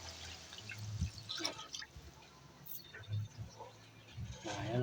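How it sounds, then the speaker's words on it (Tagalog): Water splashes and drips into a pot of mung beans and pork in an outdoor kitchen, irregular splashy pours at moderate volume with birds and faint background noise. "lagay na tayo ng tubig"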